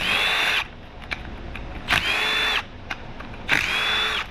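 A power tool whirs in three separate bursts as it backs out 10 mm valve cover bolts on a blown-up, badly damaged Ford 3.0 V6 Eco-Diesel engine. Each burst has a steady high whine, with quieter shop noise in the gaps between them.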